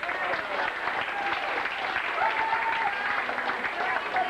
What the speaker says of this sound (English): A big round of applause for Sandy.